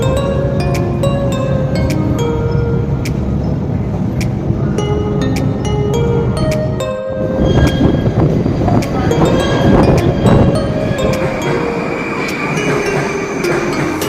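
A Moscow underground metro train rumbles steadily, loud and close, with rail rattle and a brief dip in noise midway before the roar swells again; faint voices may sit under it.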